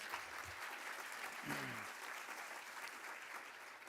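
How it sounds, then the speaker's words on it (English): At an awards dinner, an audience claps steadily for the event's organizer, a broad even wash of applause with a brief voice rising through it partway. "I would just give a big round of applause for Clay for putting on such a great event."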